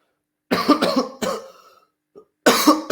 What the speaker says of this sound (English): I'm making the video so many seconds longer by coughing.